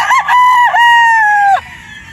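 A Boston Roundhead gamefowl stag gives one loud, close crow lasting about a second and a half, with a short rising start and a long held note that fades out. No one speaks.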